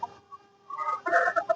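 Village hens and a rooster cluck close by in a short burst of a few clucks, the calls growing busier toward the end, with no talk.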